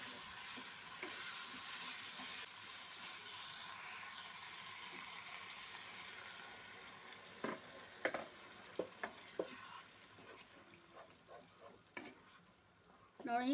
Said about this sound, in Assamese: ভালদৰে লৰাই অকণমান পানী দি দিম